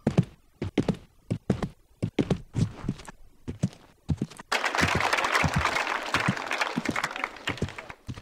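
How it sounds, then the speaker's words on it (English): Clapping breaks out in the horse-riding video game Riding Star, a steady wash of applause after a run of evenly spaced hoof-like thuds that keep sounding beneath it. "Who's clapping?"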